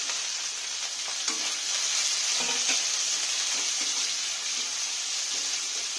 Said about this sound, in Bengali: একটুখানি ভালো করে মশলাটা ভেজে নিলাম।